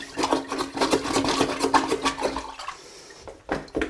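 Water gurgles and sloshes in rapid bursts as a toilet is flushed to drain its bowl before removal, then quiets into a softer trickle near the end.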